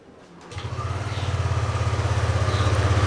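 A Yamaha Aerox scooter engine cranks and catches, then settles into a steady, close, pulsing idle that grows slightly louder over the few seconds.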